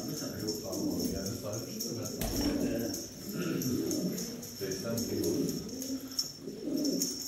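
Pigeons coo in a loft in a hidden valley in Hatay, a steady layered murmur of low cooing that runs throughout, with voices talking over it.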